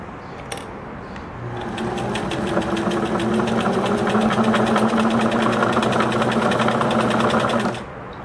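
A Singer Merritt 2404 sewing machine runs steadily after its bobbin thread tension is loosened, a close, loud, even mechanical whir with rapid needle ticking that lasts about six seconds before stopping.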